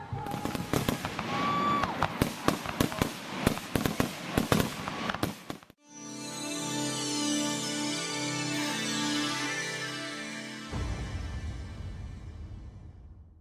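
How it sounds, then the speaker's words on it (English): A small-community fireworks display with rapid sharp firecracker-like pops and crackles, then a dense sustained crackling burst and a lingering rumble, loud and close. "The fireworks that we have is well displayed."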